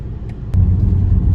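BMW 330i cruising through suburban streets, heard from inside as a low engine and road rumble that swells partway through, with a couple of sharp clicks.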